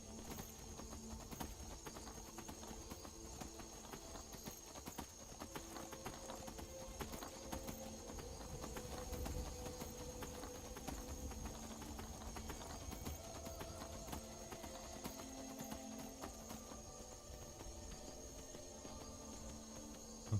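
Horse hooves clip-clopping at a camp in Skyrim, a steady rhythmic plodding kept fairly quiet under a continuous ambient game backdrop of insects and a faint tonal hum.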